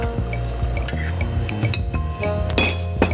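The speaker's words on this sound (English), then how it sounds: "you're going to start by filling a mixing glass with ice" Ice cubes clink and rattle against a mixing glass for a cocktail of Jim Beam whiskey, close and bright, in quick irregular bursts with a louder clatter near the end.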